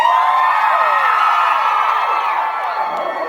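Convention audience cheering and screaming, a loud sustained wall of shrieks, whoops and yells from many people close by, tapering slightly near the end.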